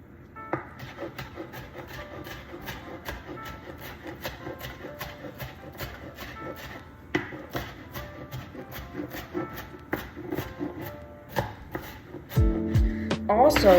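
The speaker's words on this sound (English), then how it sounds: "they're getting smaller and smaller as we keep chopping." A knife chops vegetables for taco filling on a cutting board in quick, steady strokes, close and crisp, getting louder and busier near the end; no talk over it.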